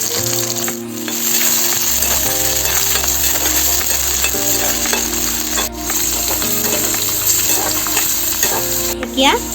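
Chopped onions and soaked chickpeas fry loudly in hot oil in a wok, a dense, continuous sizzle broken by repeated scraping stirs and a few metallic clinks close by, with no talking.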